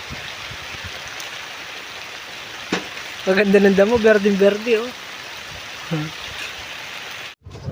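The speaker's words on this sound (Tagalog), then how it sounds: "Unang ulan sa Lynn Farm." First rain falling on Lynn Farm, a steady broadband patter and hiss throughout, with someone speaking briefly over it midway.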